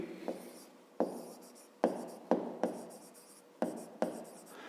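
Pen or pencil writing out a perimeter formula for a fifth-grade math exercise: close, quiet scratching strokes in short rhythmic bursts with brief pauses between, no voices.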